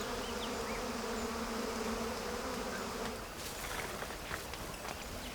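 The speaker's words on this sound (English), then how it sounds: "the bees start to evacuate the hive" Honey bees pour out of a smoked wild hive in Nepal, a dense, loud buzzing swarm heard close, its hum easing slightly partway through.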